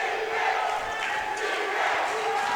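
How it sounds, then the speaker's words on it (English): The crowd at a men's college basketball tournament semifinal roars in a loud, continuous wall of cheering and shouting from a packed gym. "The crowd is absolutely getting loud."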